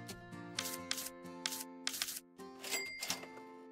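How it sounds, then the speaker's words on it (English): Keys on a card machine in Retail Company Simulator, entered from a keyboard numpad, clatter in quick bursts of several taps with short pauses between groups, crisp and close with no talk. "if you're using the card machine, you can use your numpad on your keyboard."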